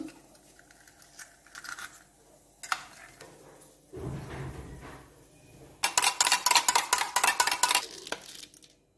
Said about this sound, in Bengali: আমি ডিম দুটোকে ফাটিয়ে নিচ্ছি